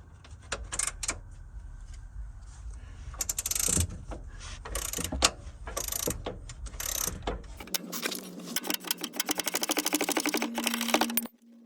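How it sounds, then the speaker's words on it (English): Working on the front and rear lower control arms of an Audi's suspension, a ratchet wrench turns a nut with bursts of clanking and handling noise, then a fast, steady run of clicks near the end. "Now I just turned it into a ratchet wrench, as long as this switch is correctly positioned."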